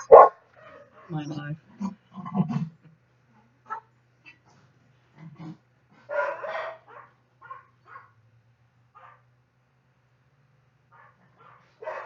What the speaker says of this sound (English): Now the dogs.